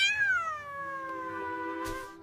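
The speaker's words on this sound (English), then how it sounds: "Saw a cat go meow, meow." A cat meow sound effect in a funny kids' song, one long drawn-out falling meow that is clear and close, ending with a brief soft noise.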